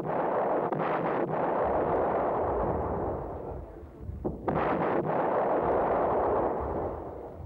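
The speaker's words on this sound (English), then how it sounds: "Iraq's generals resorted to shelling suspected Kurdish positions." Iraqi artillery shelling of suspected Kurdish positions in rough terrain rolls on as a steady, dense rumble of distant blasts and booms, with a brief dip midway before the barrage resumes.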